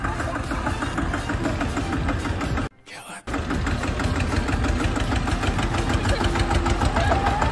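A tractor engine runs steadily at a farmhouse, a loud continuous mechanical drone that cuts out for about half a second before resuming at full strength.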